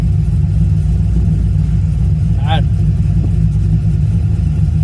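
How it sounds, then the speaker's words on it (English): A car engine idles with a deep, steady rumble, close and loud, with a brief rising rev in the middle. "God, this car sounds so good."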